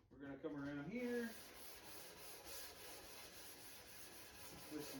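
Hand sanding the edges of a wooden game table with 220 grit sandpaper, a soft, steady rubbing scratch close by that follows a brief stretch of talk at the start.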